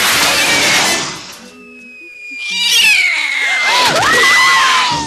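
Cats and dogs fighting in a Spanish-language television promo: loud yowling, caterwauling cat cries with wavering meows, broken by a brief quieter gap before the screeching returns in a frantic burst.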